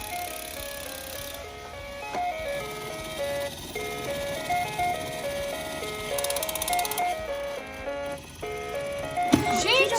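A toy claw machine at play speeds up its looping electronic jingle, a steady chain of bright tonal notes that runs the whole time with a few mechanical clicks, while people speak over it.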